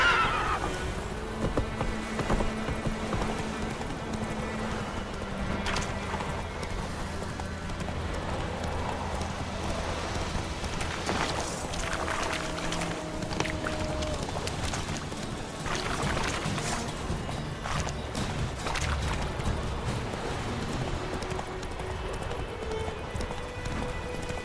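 A horse in The Witcher 3 video game clip-clops along steadily under a game soundtrack, with a neigh rising over the hoofbeats and faint voices now and then.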